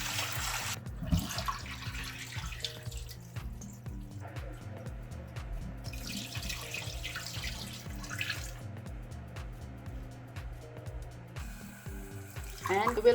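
Running water from a kitchen tap splashes into a sink as four cups of rice are rinsed, a steady close trickle with soft dribbles and clinks, faint background music underneath.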